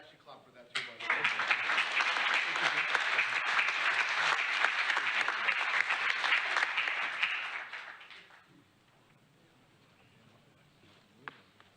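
An audience at a mayor's installation and community service awards ceremony bursts into brisk, close clapping that runs for about seven seconds, then tapers off into a quiet room with one stray clap near the end.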